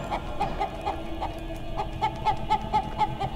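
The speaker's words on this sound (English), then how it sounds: "Well then, I am a chicken." Repeated clucks of a chicken in the video game City of Brass, a rhythmic run of short, fairly close calls over steady game background noise.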